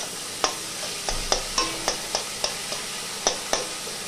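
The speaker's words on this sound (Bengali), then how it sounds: "দেখো মশলাটা খিচুড়িতে দিয়ে দিয়েছি, আর এবার ভালো করে ঘেঁটে দেবো।" A spoon stirs spice mix into khichuri in a pan, giving a dozen or so sharp scraping clacks at an uneven rhythm over a faint sizzle, close up, with no talking.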